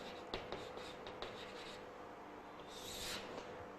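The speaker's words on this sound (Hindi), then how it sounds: "जो रिएक्शन होती है वह भी लिखता हूं" A pen scratches out a chemical equation on paper during a redox titration lesson, producing faint, close scribbling strokes with a few sharper taps and a brief squeak near the end, over a low room hum.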